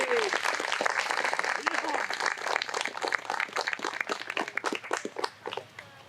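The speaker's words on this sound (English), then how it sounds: "Let's give them another round of applause, please." An audience applauds fourth-grade students at an outdoor dedication ceremony for the Battle of Yorktown, steady clapping filling the space and thinning out toward the end, with a few voices mixed in.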